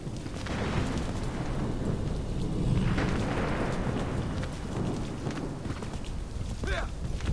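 Continuous rumble and rain-like hiss of a thunderstorm in Assassin's Creed 3, with rolling low swells building and easing throughout, a brief louder surge around the middle and a faint voice near the end.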